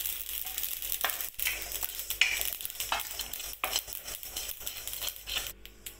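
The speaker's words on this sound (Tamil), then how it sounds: "கடுகு நல்லா பொரிய ஆரம்பிச்சு ஸ்டவ்வை ஆஃப் பண்ண போகிறேன்" Mustard seeds spluttering in hot oil for a gooseberry pickle, a steady close crackle with sharper pops scattered through, no voices.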